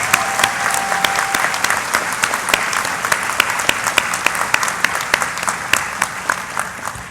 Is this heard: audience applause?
yes